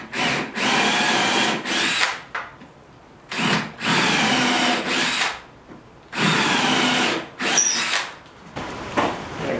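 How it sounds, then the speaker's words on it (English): Power drill with a 3/8 drill bit countersinking holes in a wooden butcher block workbench top, several loud drilling bursts of a few seconds each with short pauses between, up close and alone. "I'm gonna countersink the top."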